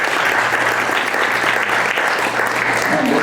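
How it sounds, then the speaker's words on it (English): An audience at a company Christmas hypnosis show claps steadily, loud and close, a dense uninterrupted round of applause lasting a few seconds. "Give them a round of applause,"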